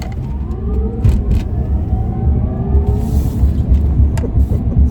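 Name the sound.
Tesla Cybertruck accelerating to about 60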